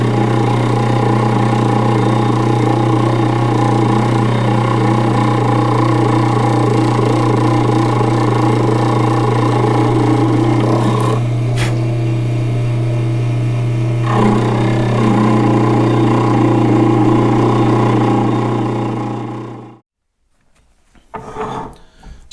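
Lathe spinning an IH tractor generator armature, a strong steady hum with a faint scraping texture on top, a sharp click and a brief shift midway, then the machine winds down to near silence.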